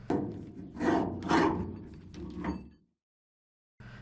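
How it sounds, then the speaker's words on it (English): Heavy doors moving in an audio story scene, a run of loud grinding, rubbing impacts and scrapes over a few seconds, then a sudden stop into silence before a faint sound resumes. "A loud clang was heard."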